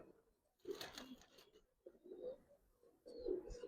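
Giribaz pigeons in a cage coo in low, soft bursts, three short cooing phrases separated by brief pauses, close and quiet.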